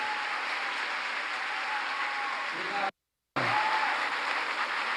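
Church audience applauding in a steady, dense wash of clapping that cuts out briefly for a moment of silence, then resumes just as strong.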